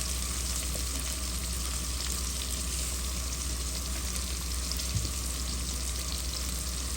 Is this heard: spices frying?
yes